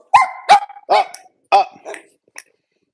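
A dog barks several times in quick, sharp bursts close by, then gives a couple of softer yips before falling quiet.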